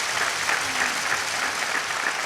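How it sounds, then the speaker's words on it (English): A crowd at a table tennis match applauds, a dense, steady wash of clapping that stays loud and even for a couple of seconds. "Every single point now is roared on by this crowd"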